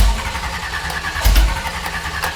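A small block Chevy V8 fitted in a Mazda RX7 cranks and tries to catch on a carburetor setup, a rough mechanical churning with a louder burst about halfway through, close and steady, with no voices.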